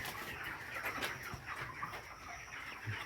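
Chickens on a raised-floor poultry farm clucking and calling, many overlapping birds in a busy, fairly soft barn chorus with no talking.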